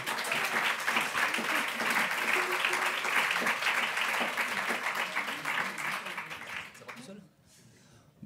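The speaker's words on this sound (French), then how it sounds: "Je vous demande d'applaudir le tout premier qui se lance, Cédric Bouquet." Audience at a fundraising conference on research and health applauding steadily for several seconds, a dense, even clapping that fades out near the end.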